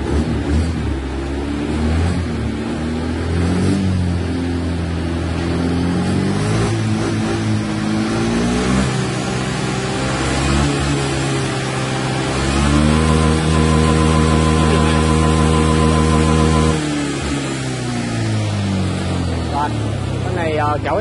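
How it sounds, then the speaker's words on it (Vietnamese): An engine held at full throttle with a rev limit around 9,500 rpm, droning loudly as its pitch climbs, steadies and falls back, under someone talking. "Bây giờ ga thấp lên xem tua máy hết cỡ là được bao nhiêu nhé"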